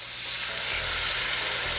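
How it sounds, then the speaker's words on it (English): Pork loins sizzle steadily in hot oil in a home kitchen, a continuous close, bright frying hiss with a low hum underneath and no talking. "I'm just gonna add the loins to it and wait for the sizzle, baby, the sizzle"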